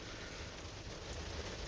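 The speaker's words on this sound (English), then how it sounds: "It started pouring down rain." Heavy rain pouring down over an outdoor junkyard, a dense, steady hiss of drops drumming on surfaces with no break, quiet and far off, with nobody talking.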